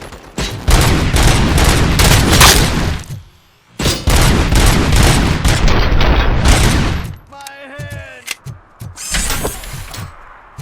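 Dense bursts of automatic gunfire from a RoboCop: Rogue City firefight, loud and sustained in two long volleys with a short gap, then a metallic mechanical passage and a final shorter burst.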